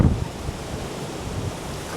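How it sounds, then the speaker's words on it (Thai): Strong wind roars steadily across a foggy mountain top, buffeting the microphone with continuous low rumbling gusts and no speech. "ว้า ลมแรงมาก ๆ หนาวเลยครับ"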